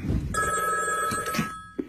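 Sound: telephone ringing

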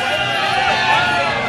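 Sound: audience cheering for Team Blue

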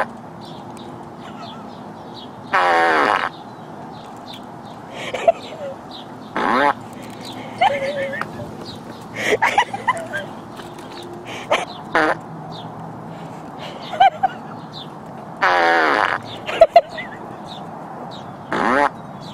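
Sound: fart machine sound effect

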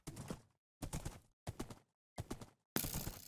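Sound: horse hooves in Minecraft video game

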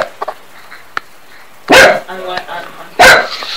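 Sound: Jack Russell terrier dog barking

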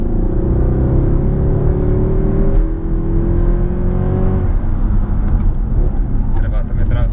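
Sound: Mercedes C63 AMG 6.3 V8 engine revving

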